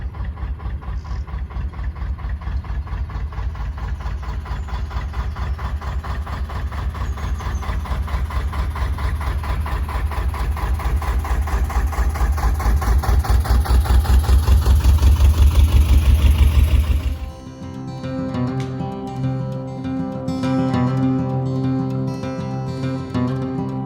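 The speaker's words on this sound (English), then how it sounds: "I just love the sound of these old classic engines in the old workboats." Old classic workboat engines run steadily at a close, loud level, a continuous low rumble that swells slightly before dropping off and giving way to a quieter, different engine note.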